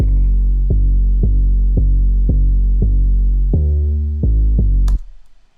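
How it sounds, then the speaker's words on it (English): A row of deep, booming 808 bass drum hits plays one after another at a steady pace, heavy and resonant, ending with a sharp click. "you're gonna finally need some 808s for that boomy sound"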